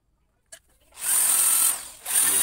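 Power drill spinning a brush against a Vespa ignition pulser, a brief click then a high whine that runs, dips briefly and spins up again close to the mic.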